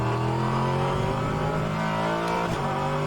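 A GT3 race car engine in the rFactor 2 racing game roars at high revs, loud and continuous, with a brief shift in pitch near the end.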